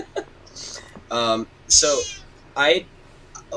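A cat meows several times in a row, close and fairly loud, with short gaps between each call and no talking over them.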